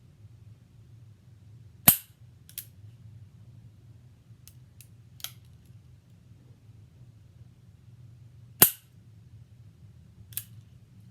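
A Ruger LCRx revolver is dry-fired in single action: two sharp, close hammer snaps several seconds apart, each followed by fainter small clicks, over a quiet low hum with no talk.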